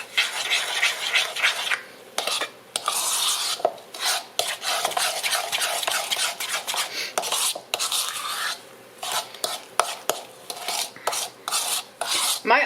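Muffin batter made with milk and an egg being mixed in a bowl, a steady scraping, rasping stir with quick rhythmic strokes and brief pauses, close and fairly loud with no talking.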